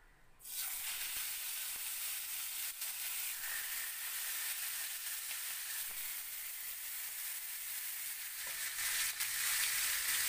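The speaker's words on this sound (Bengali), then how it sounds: "এখন আমি এই যে মাছের টুকরোগুলোকে একে একে এখানে দিয়ে আমি ভেজে নেব" Fish pieces frying in mustard oil on a gas stove, a sudden hiss as they hit the hot oil, then a sustained steady sizzle that swells slightly toward the end, close and unaccompanied by speech.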